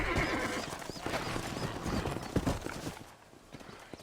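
A horse in the Western video game Red Dead Redemption clip-clops along at a steady gait and lets out a neigh, the hoofbeats fairly close amid outdoor game ambience before fading slightly at the end.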